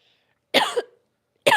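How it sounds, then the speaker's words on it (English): Two short, loud coughs from a person near the microphone, the first a harsh burst with a rough tail, the second starting just over half a second later and cut off at the end, with silence between them. "You're going to have to go off camera and cough."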